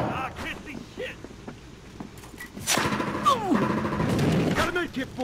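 Gunfire in the police-and-robbers shooter Battlefield Hardline during a bank job match: bursts of automatic weapon fire and impacts under near continuous team voice chat, with the shooting thickening toward the end.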